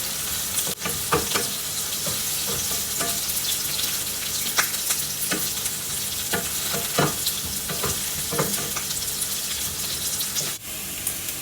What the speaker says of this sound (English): So let our onions fry